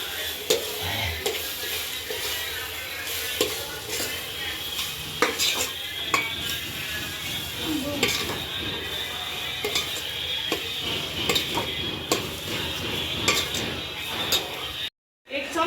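Chicken biryani masala being stirred in a cooking pot, a steady scraping and clinking of the spoon against metal over a continuous sizzle, with a soft voice faintly in the background.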